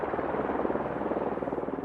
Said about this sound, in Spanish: Por fin, el helicóptero de Wilhelm tiene permiso para aterrizar.